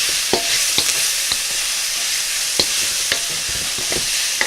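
Pork stir-frying in a hot pan sizzles steadily, with scattered scrapes and clicks of a utensil stirring the meat at irregular intervals, close and alone without any talk.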